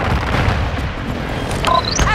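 Continuous rumbling explosions from an airstrike in Call of Duty: Modern Warfare 2 multiplayer, a dense, loud roar with a few brief sharper tones near the end.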